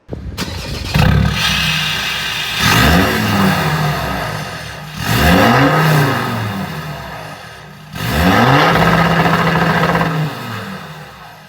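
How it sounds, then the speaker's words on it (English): A Ford Ranger pickup engine revs hard three times through a loud, raspy 3-inch straight-through turbo-back exhaust, each rev rising sharply then dropping back to a rumbling idle. "You heard it there, that's 3-inch straight through turbo back."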